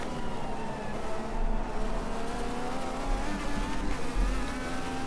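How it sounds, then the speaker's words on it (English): Racing car engines in the Automobilista 2 sim racing game, a sustained high-pitched whine with shifting harmonic tones as revs change, steady and fairly loud, with no talking. "The sound coming out of the engines is way better than iRacing, honestly."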